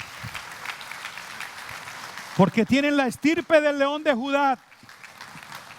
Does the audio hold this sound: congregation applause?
yes